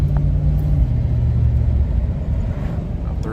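A 1998 Chevrolet C1500 pickup with a misfiring engine drives at speed, producing a loud, continuous low rumble of engine and road noise from inside the cab.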